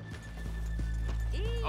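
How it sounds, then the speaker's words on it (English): Horses in the Red Dead Redemption 2 video game: hooves clip-clop at a walk with a whinny near the end, set against a low steady hum and a voice speaking briefly. "let's leave the horses here off the main draft"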